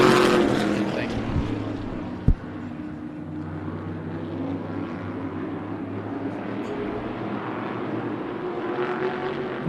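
Race car engines roar steadily at Tucson Speedway during an evening race, a continuous droning rumble that holds throughout with a brief sharp knock, while a voice talks over it.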